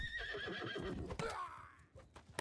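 Horses whinnying in the video game Mount & Blade Bannerlord, a shrill rising neigh followed by another, over a steady patter of hoofbeats at moderate distance.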